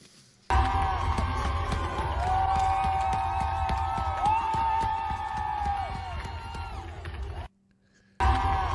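Crowd at a sports event with a handful of people yelling and cheering, a raucous burst of shouts and whoops over steady crowd noise, cutting off abruptly near the end.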